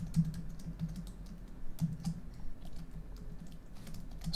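Fingers tap on a computer keyboard in quick irregular bursts of soft clicks, close up and fairly quiet, with no voices over them.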